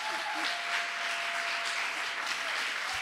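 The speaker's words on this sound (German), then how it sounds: "Nochmal einen Riesenapplaus" An audience at a Butoh dance event applauds, a steady wash of clapping that stays even and moderately loud for a few seconds, with no speech over it.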